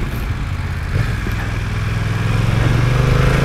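A BMW F900XR motorcycle engine drones loudly and steadily, its pitch rising slightly as it pulls harder out of a corner, with no voices present.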